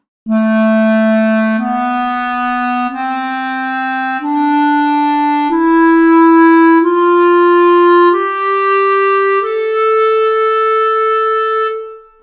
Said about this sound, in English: This is the sound of the A natural minor scale.